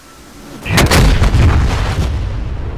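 A bomb released from an AV-8B Harrier detonates in the DCS World flight simulator, a heavy booming blast that swells suddenly and then rumbles and decays over a couple of seconds, with no voices.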